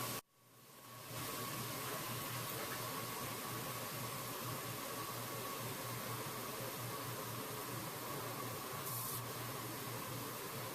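Hot water gushes steadily from a kitchen tap into a sink with dish soap, a constant loud hiss after a brief start, with no talk.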